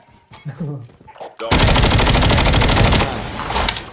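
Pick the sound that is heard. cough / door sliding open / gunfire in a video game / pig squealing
gunfire in a video game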